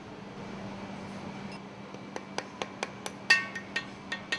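Sharp metallic clinks from bolts going in and a new guide bushing being fitted into an exhaust valve housing, about a dozen light taps spaced unevenly over a steady fan-like hum.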